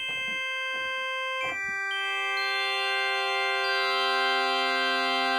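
Korg Opsix synthesizer notes using additive synthesis, each with a sharp plucky attack, played with several attack lengths. Short bright stabs come first, then longer notes swell into a sustained, bell-like chordal body that keeps ringing and builds.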